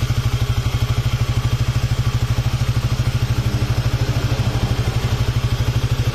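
A Honda Sonic 150 motorcycle engine runs at idle while warming up, a bike prone to overheating in traffic: a loud, close, evenly pulsing mechanical chug that holds steady throughout with no voices.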